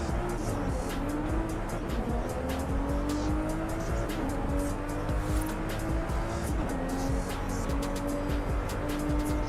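Pagani supercar engine in Forza revs hard and continuously with rising and falling pitch as gears change, tires squealing at moments, loud and close with no talk.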